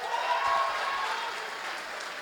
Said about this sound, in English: Ladies and gentlemen, a round of applause for the winner of this category, Dr. Fatoumata Diba.